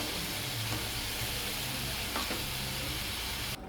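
Cumin paste, garlic paste and onions fry in oil in a pan while cooking duck curry, giving a steady close sizzle with a brief scrape of stirring partway through and no voices.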